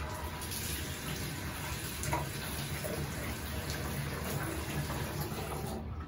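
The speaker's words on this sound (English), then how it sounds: "you have to find a fresh water source and fill it up a little bit" Fresh water runs from a tap into a cassette toilet tank, a steady close hiss and gurgle of filling water that holds evenly throughout without speech.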